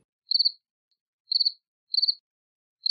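Crickets chirp in four short, high, pulsing bursts spaced about a second apart, crisp and isolated against otherwise total silence.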